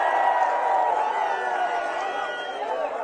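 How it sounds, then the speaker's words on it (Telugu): A rally crowd roars and cheers in a steady, loud wash of many voices at a Telugu political rally, with clapping blended into the sustained noise and no single voice standing out. "లేదంటే గట్టిగా చెప్పండి చప్పట్లు కొట్టి."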